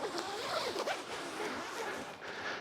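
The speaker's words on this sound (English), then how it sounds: "Zippers feel good." A zipper on a tall stand-up camping tent at an off-road vehicle area campsite is drawn in several quick, close rasping pulls with short pauses between strokes.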